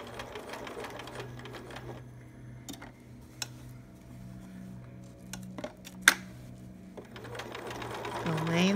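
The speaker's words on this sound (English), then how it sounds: "So I turn, sew across the Velcro." A sewing machine stitches across Velcro on a small preemie shirt, bursts of rapid mechanical whirring and ticking broken by pauses and a sharp clack, with a voice talking over it.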